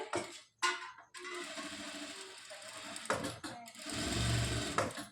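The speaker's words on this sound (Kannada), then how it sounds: "ಈ ರೀತಿ ಸ್ಟಿಚಿಂಗ್ ಹಾಕುವಾಗ ನೀಟಾಗಿ ಗೆರೆ ಮೇಲೆ ಬರಬೇಕು" A sewing machine stitches a blouse, its motor whirring in steady bursts close by, stopping briefly between runs, with a speaking voice faintly underneath.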